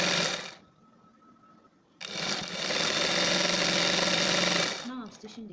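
A sewing machine runs steadily as its foot glides over fabric while stitching a kaftan dress, with a quieter pause before a long continuous whirring run that then stops.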